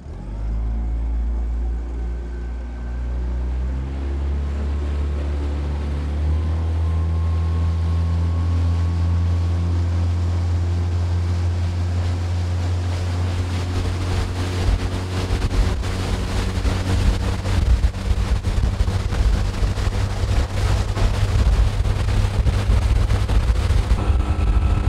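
A Promarine GY430W boat with a 20 hp outboard motor carrying two people accelerates, its engine droning steadily and rising in pitch, with water rushing and slapping against the hull growing louder.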